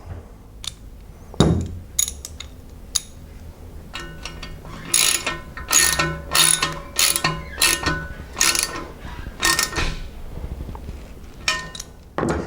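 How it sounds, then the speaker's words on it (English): A wrench ratchets while threading a drain valve into an air compressor tank, producing close, rapid bursts of clicking ratchet strokes in repeated rhythmic runs with short pauses between them. "go ahead and use your wrench"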